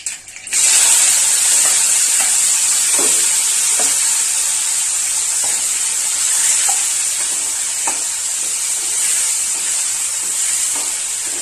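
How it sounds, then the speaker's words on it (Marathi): Tomatoes hitting a hot pan for eggplant bharta set off a loud, bright, continuous hiss that holds steady, with occasional soft scrapes of stirring underneath. "आता मी टोमॅटो टाकून घेणार."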